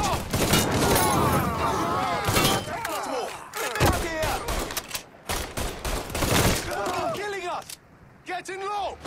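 Rapid gunfire bursts and thuds in the video game Mafia 3, dense and loud across the whole stretch, mixed with shouting voices over the shooting.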